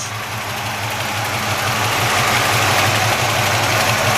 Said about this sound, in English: Got a nice exhaust rumble though, not too loud.